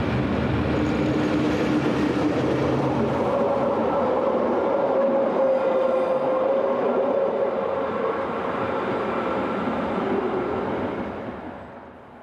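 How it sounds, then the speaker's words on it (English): A 1958 articulated electric locomotive of a Swiss narrow-gauge railway near Davos rumbles steadily past. The loud, continuous rolling roar carries a faint tonal whine and fades slightly at the end. "Here is articulated locomotive number 701, part of a fleet of 7"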